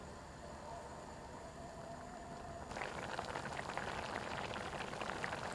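A low hum gives way halfway through to the crackling, bubbling fizz of oysters and sake coming to a boil in a pot on high heat, close and steady.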